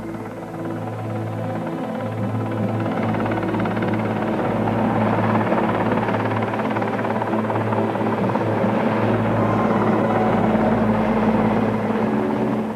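Chilean army rescue helicopters evacuating crash survivors from a remote mountain site roar loudly and steadily, rotor thump and turbine whine constant throughout with no voices.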